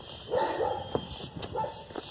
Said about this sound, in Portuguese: Parece que ficaram só no latido lá de longe.